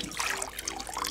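Water spills and splatters out through the mesh covering a shaken glass, a dense, steady trickling splash lasting about a second at close range, with no voices.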